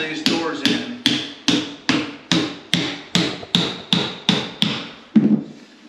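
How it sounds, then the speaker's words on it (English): Steady hammer taps on shims while interior doors are fitted into their frames, about eleven sharp, evenly spaced knocks, close and loud, with no talking. "now I am struggling to shim all these doors in"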